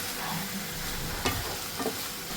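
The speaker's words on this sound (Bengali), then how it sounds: "আপনাকে কিন্তু এই মশলাগুলো পুরো ভাজতে হবে চিংড়ি মাছের সাথে" Spices fry together with prawns in a hot pan, giving a steady close sizzle with a couple of brief stirring scrapes and no talking.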